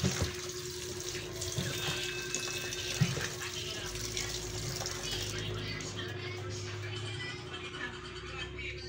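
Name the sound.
tap water running while washing string beans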